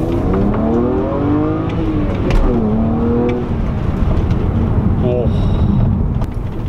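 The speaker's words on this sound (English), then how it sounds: "We can definitely hear the spooling a little bit more." A BMW 335i fitted with a RamAir air filter revs hard, its engine note rising and falling in loud sweeps while a turbo spools up with a thin whistle above the roar.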